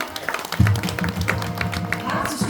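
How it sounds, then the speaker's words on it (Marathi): An audience at a kirtan in Pandharpur claps in a burst of moderate applause, with uneven thumping claps and a low hum behind it. "दादांसाठी एकदा जोरदार टाळ्या"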